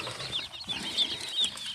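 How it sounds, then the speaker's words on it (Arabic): Local free-range chickens clucking up close on a farm, a busy overlapping chatter of short clucks and chirps with no talking. "على الفراخ بتاعتنا البلدي اهي،"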